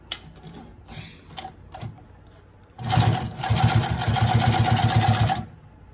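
A Consew 369RB-2 split needle bar high post sewing machine, 3/8 gauge, gives a few short taps and bursts, then runs loud and close for about three seconds, stitching in a fast, even mechanical rhythm before stopping.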